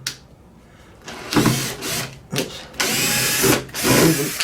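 A power drill backs screws out of the corner protectors on a Marshall 1960A guitar speaker cabinet, in several loud whirring bursts of rising and falling pitch separated by short pauses.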